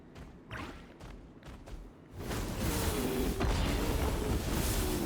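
Objects smashed open in Genshin Impact, starting with a few separate thumps and clunks, then a loud crash and a sustained rumbling debris and mechanical roar that carries on to the end.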